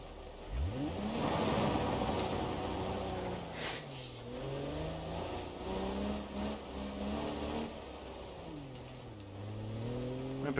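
A Jeep engine in the BeamNG Drive driving game revs hard through repeated rising and falling sweeps, loud and continuous throughout, with occasional scraping and bumping noises as the vehicle struggles over rough off-road terrain.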